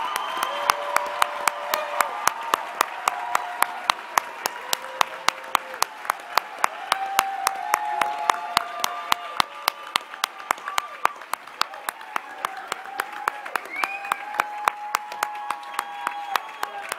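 Steady applause from a seated audience at a university commencement ceremony, with dense clapping carrying on for the whole stretch and a few voices mixed into the crowd.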